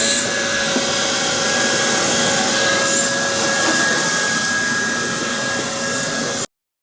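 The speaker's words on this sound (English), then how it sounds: "Guys are just hoovering up inside now." A vacuum cleaner hoovers inside a camper van during a conversion build, running as a steady, loud, continuous whine and roar for about six seconds before cutting off abruptly.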